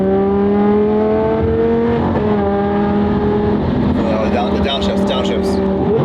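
A supercharged V10 sports car downshifts, its engine note stepping down in pitch with a loud, close, harmonic roar, while people talk over it inside the cabin.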